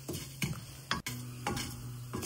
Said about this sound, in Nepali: गरेको आइटमलाई एक एकवटा गरेर हामी भुट्दैछौँ बिस्तारै।